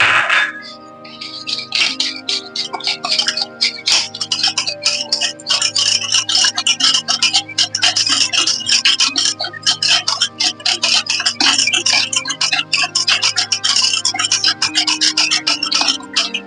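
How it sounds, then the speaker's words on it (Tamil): Rava cake batter mixed with curd is beaten hard in a bowl, giving a rapid, continuous scraping and tapping rhythm close by for the whole stretch, loud and unbroken. "இப்போ இது எல்லாத்தையும் லம்ஸ் ஃபார்ம் ஆகாம நம்ம பீட் பண்ணிக்கலாங்க"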